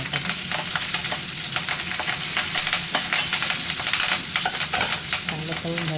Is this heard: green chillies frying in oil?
yes